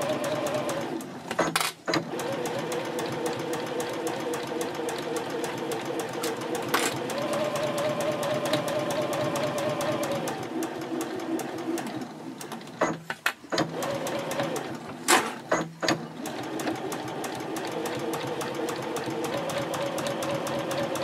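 A sewing machine basts a card slot to the back interior panel of a mini backpack card holder, running steadily at a 3.0 stitch length with a few brief pauses and restarts.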